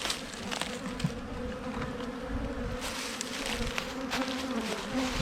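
Honey bees from a working hive colony buzz steadily and close by, a dense continuous drone with individual bees flitting past, no talking.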